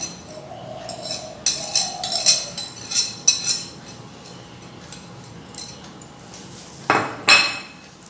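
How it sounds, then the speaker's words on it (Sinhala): Spoon clinking against a bowl while icing sugar and butter are beaten together: a run of sharp, close knocks and scrapes, then a quiet pause and a final burst of clinks near the end. "මේ ටික හොඳට කලවම් කරගමු."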